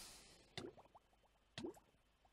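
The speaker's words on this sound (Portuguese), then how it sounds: "E temos também um novo som um, de quando nos afogamos" The drowning sound from Minecraft: two sharp bubbly gulps about a second apart, each followed by a quick trail of small plopping bubbles. The sounds are faint and isolated, with no voices.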